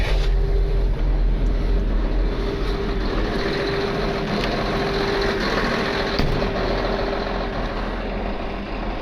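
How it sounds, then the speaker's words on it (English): A truck pulling a low bed trailer rumbles steadily nearby as it arrives, a continuous low engine drone with no talking. "looks like our truck is here"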